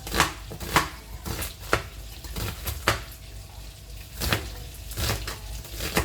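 A knife chops an onion on a board in a home kitchen, giving a series of irregular sharp taps and clacks at close range with a steady low background hum.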